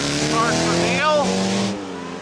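A race car at the Weatherly hill climb accelerates hard, its engine rising through rapid upward sweeps, then cutting back and fading, with an announcer talking over it.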